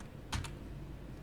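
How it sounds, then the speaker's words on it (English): A few quick keystrokes on a computer keyboard, two close, crisp clicks in a quiet room. "here we are going to press Command F or Ctrl F and type GTM/tf"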